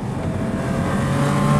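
A 2023 Porsche Cayman GT4 RS engine rumbles and revs steadily with a deep, throaty exhaust note, fairly loud and continuous.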